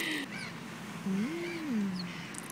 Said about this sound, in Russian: Вокруг нас сейчас будет куча птиц.